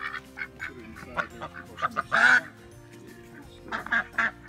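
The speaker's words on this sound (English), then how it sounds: "Peking ducks." Peking ducks give a series of nasal quacks and honks at close range, in uneven bursts with one louder call in the middle, over quiet farmyard background noise.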